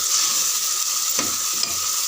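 Tomato rice masala sautéing in a pan makes a continuous close sizzle, with a soft stirring scrape near the middle and no voices.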